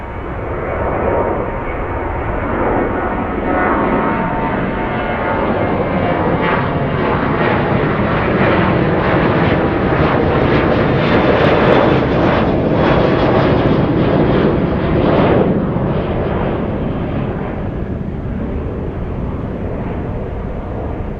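A large four-engine quad jet airliner rolling down a runway on takeoff, a loud, steady, continuous engine roar that holds at full power throughout, with no voices over it.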